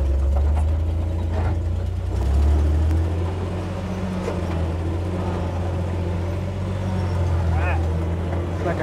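A flat fender Willys Jeep crawls in granny low on the Gold Bar Rim trail during an Easter Jeep Safari, its engine a steady, deep, loud rumble throughout with faint voices underneath.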